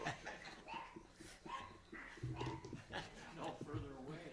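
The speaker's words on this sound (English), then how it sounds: "Alderman Herndon, any way you could remove your dog from the room?" A dog in a city council meeting room yips and whimpers faintly in short bursts, mixed with murmuring voices and room noise.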